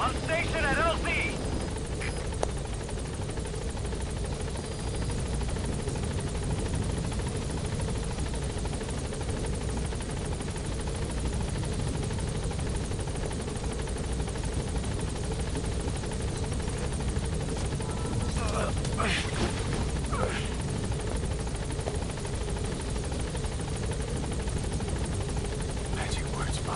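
The Pequod helicopter in a video game arrives and hovers at the landing zone, a constant loud rotor thrum and engine whine running throughout while a voice speaks over it.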